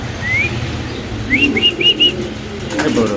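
Young pigeons at a pigeon sale give a few short, close chirping calls in a quick cluster, with soft rustling that may be wing movement against a steady background hum.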